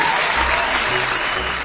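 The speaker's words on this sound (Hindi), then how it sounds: "तालियां बजती रहें।" Loud, dense applause from a game show studio audience, steady throughout and close by, with a faint voice underneath before it cuts off.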